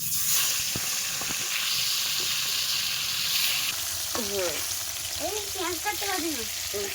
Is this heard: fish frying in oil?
yes